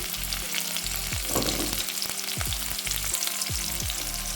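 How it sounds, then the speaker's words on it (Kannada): Garlic and green chilies frying in hot oil for a bottle gourd curry, a continuous close sizzle with periodic stirring scrapes and no voices. "ಬೆಳ್ಳುಳ್ಳಿ ಸ್ವಲ್ಪ ಹೊತ್ತು ಫ್ರೈ ಮಾಡುವ"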